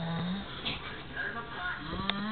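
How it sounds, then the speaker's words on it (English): Two men snoring in sync in a shared bed: low, droning snores overlapping, with a faint nasal whistle and soft breathy rasps, close and moderately quiet. "their snoring synchronizes."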